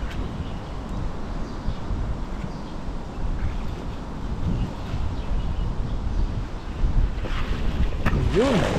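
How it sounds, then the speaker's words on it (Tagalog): Strong wind buffets the microphone in a continuous roar by a river, with a brief whistling tone near the end. "Yun, lakas ng hangin."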